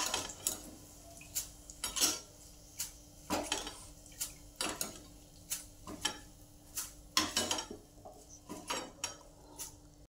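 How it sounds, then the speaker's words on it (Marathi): Curry leaves fry in hot oil in a pan for bhadang, a spiced puffed-rice snack. A spoon clinks and scrapes against the pan in irregular strokes over a soft, steady sizzle. "तळून घेऊया कढीपत्ता चांगला तळलाय, आता आपण काढून घेऊया।"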